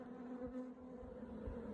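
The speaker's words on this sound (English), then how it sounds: "that's a heavy box of bees" Honeybees buzz steadily in an open hive box during an apiary inspection, a dense, continuous hum of many insects close by with no talk over it.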